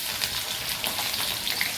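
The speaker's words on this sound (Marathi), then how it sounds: "इथे त्याच्यामध्ये टाकूया कांदा." Onion goes into a hot pan with crushed garlic and chopped green chili for pithla, giving a brief, continuous crackling sizzle at close range.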